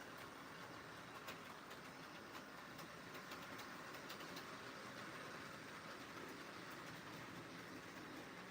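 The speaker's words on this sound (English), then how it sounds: "I'm gonna switch out the train on the tracks. It's running right now." A model train runs steadily on its track, a continuous rolling rumble with faint clicking, heard close up for the whole stretch with no one speaking.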